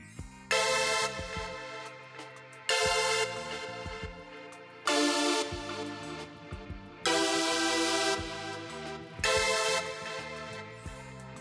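Bright sawtooth synth chords enter in repeating blocks every couple of seconds, layered over a New Jack Swing bass and drum groove, no voices.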